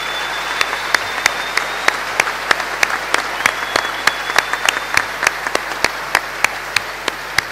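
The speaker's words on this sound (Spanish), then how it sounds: "Y con este aplauso celebramos esta fiesta de la democracia en la ciudad de Paraná." Audience at the opening of a legislative session in Paraná clapping, a steady stream of hands with sharp individual claps standing out over a faint constant hum.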